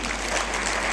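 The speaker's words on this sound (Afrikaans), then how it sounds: "Ag, gee jouself 'n hande klap vir woord." Congregation applauding in a church, a steady wash of dense clapping that fills the whole second at even loudness, close and continuous with no voices on top.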